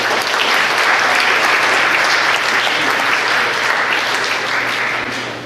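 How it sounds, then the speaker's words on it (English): Sustained applause from an expo audience at the SUGAR EXPO 2019 event, loud and steady clapping filling the whole stretch, tapering slightly at the end. "So a round of applause for all of us."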